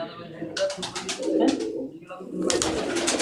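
Pigeons coo in soft, repeated bursts close by, with short pauses between the calls and a faint murmur of background activity.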